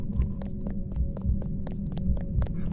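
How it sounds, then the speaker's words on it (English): A fast, steady heartbeat pulses in a video game, soft low thumps repeating about twice a second over a constant hum, with no talking. "The heartbeats were getting faster where you are."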